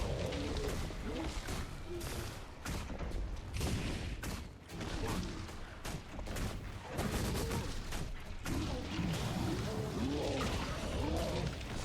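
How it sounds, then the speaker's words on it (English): Main cannon fire in Guild Wars 2 set in a dense, continuous stream of gunfire-like blasts and crashes, loud and busy throughout, with game combat effects layered over a steady low roar and some talk mixed in. "Firing main cannon."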